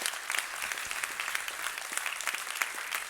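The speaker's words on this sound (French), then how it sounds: "Et toute l'Église, on peut les applaudir vraiment pour ce qu'ils font." A church congregation claps together in a steady, even wash of applause, moderately distant and somewhat soft, with no speech over it.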